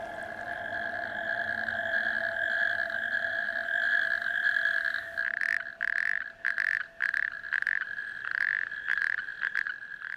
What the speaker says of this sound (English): Male natterjack toads vociferously court the females.